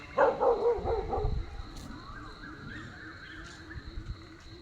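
Dogs bark a few times ahead on a street during a morning alms-giving walk, a short loud cluster of barks early on before quieter street ambience.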